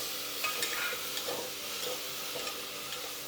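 Onions and tomatoes sauté in a pan for a mushroom gravy, giving a steady, close sizzle with soft stirring scrapes and light clicks throughout.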